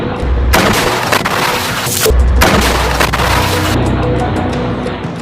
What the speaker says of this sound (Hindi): राफा के पूर्व में जॉर्ज स्ट्रीट पर इजराइल के सैन्य वाहनों और मेरकावा टैंक्स पर हमास ने अल यासीन 105 रॉकेट बरसाए हैं।